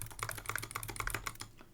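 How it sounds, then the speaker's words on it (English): Computer keyboard keys are pressed in a quick, steady run of close, crisp clicks during a game of Club Penguin, with no voices. "press E and then Y on your keyboard"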